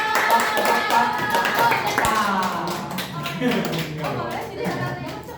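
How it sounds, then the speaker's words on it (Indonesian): Scattered hand clapping from the audience at the Kenduri Jambi closing party, mixed with music and crowd voices, moderately loud and fairly continuous. "Tepuk tangan"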